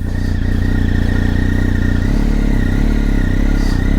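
A BMW R1250 GS motorcycle idles with a steady, close boxer-engine rumble and faint clatter; the note shifts partway through as it pulls away.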